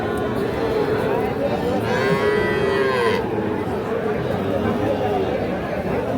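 Young bull calves, around four months old, moo at Aftabganj cattle market: several drawn-out calls rise above a constant crowd chatter and bargaining voices, with one long moo standing out near the middle.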